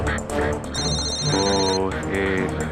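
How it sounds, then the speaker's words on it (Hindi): A phone rings in an office setting during a tense courtroom-drama scene, its repeating electronic ringtone tones sounding over background music and dramatic scoring. "आपका फोन बज रहा है"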